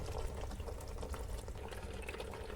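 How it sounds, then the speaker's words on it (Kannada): Water splashes and gurgles steadily as it is poured into a pot of chicken sambar, a soft continuous wash with no voices. "ಇವಾಗ ನಾನು ನೀರು ಹಾಕ್ತೀನಿ"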